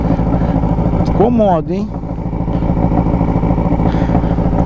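A Yamaha X6 turbo motorcycle drones steadily while being ridden, its engine noise continuous beneath a rider speaking close to the microphone.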